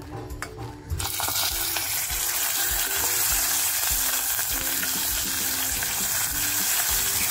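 Mutton fat drops into hot oil and bursts into a loud, steady sizzle that holds close and constant throughout, with a few quieter clatters just before and no speech.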